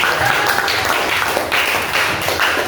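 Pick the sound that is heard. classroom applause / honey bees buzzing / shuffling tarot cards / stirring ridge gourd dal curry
classroom applause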